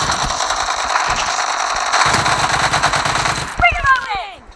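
Rapid automatic gunfire rattles continuously in a BGMI mobile battle royale match, close and loud. The burst ends with a few sharp ricochet-like whizzes.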